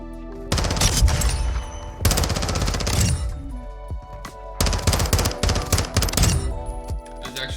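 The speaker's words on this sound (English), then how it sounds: "This is the Vel 46 in the firing range." A Vel 46 submachine gun fires in a video game firing range, loud rapid automatic bursts of about a second and a half each, three long strings separated by brief pauses with scattered single shots between them.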